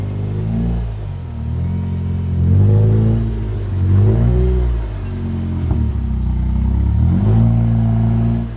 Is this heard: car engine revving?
yes